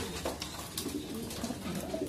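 Soft, low cooing of racing pigeons, repeated gentle calls over a faint background hum.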